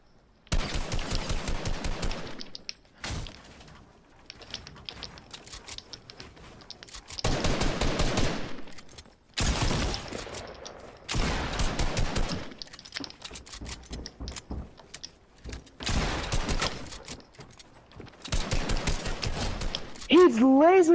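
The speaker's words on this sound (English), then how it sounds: "He's lasering me with the AK!" Repeated bursts of AK rifle fire in a battle-royale style video game, loud sustained volleys broken by short pauses, with players talking between the shots.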